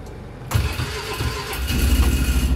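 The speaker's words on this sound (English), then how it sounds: "Start up the Ranger." Polaris Ranger utility vehicle engine cold starting, a brief cranking catch that settles into a close, steady idle, loud and alone.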